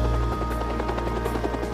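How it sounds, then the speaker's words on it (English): Bell XH-40 turbine-powered utility helicopter, a steady loud rotor thump with a droning engine hum, close and continuous with no voices. "Bell's engineers developed a turbine-powered utility helicopter,"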